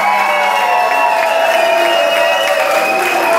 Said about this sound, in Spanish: Que ustedes nos estén aplaudiendo en un lugar tan mítico